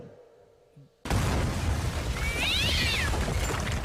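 A sudden loud burst of noise kicks in after a quiet opening, and a cat fight sound effect follows with a short yowl rising through it, played on a live morning radio stream.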